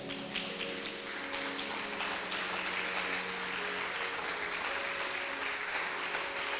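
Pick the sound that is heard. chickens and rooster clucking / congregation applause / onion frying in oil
congregation applause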